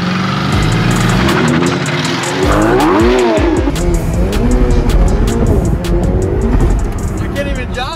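A Ferrari 488 Pista on bald tires in cold conditions squeals and slips, with revving engine and sliding tire whines rising and falling over several seconds, loud and close, while people talk over it.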